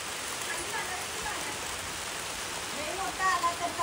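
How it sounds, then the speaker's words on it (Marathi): Heavy rain pours down during a home Diwali celebration, a dense, even hiss of falling water that holds steady throughout, with a brief rise in sound near the end. "कसला जोरात आला पाऊस"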